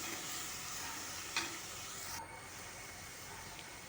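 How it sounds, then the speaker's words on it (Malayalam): Dried anchovies stirred with onion and green chilli in a hot pan, giving a steady close sizzle. A brief scraping stir breaks through midway, then the hiss softens and continues evenly. "അതിലേക്ക് കഴുകി വൃത്തിയാക്കി വെച്ചിരിക്കുന്ന ഉണക്ക നൊത്തോലി മീൻ കൂടെ ചേർത്ത് നന്നായി ഇളക്കി യോജിപ്പിച്ച് കൊടുക്കാം."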